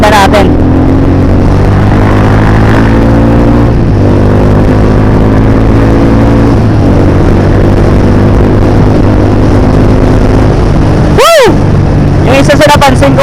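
A Mojo 200 motorcycle fitted with a new carburetor revs up close and loud, its engine note rising and settling through several throttle blips with an aggressive response.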